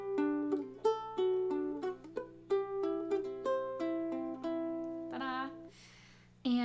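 Ukulele fingerpicking in a repeating string pattern, clean plucked notes ringing one after another in a steady rhythm, close and clear, ending with a few brighter scratchier strokes.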